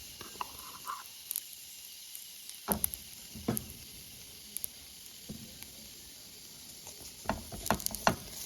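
Frying oil sizzles faintly and steadily close by, broken by scattered clicks and light scraping pops, with no talking.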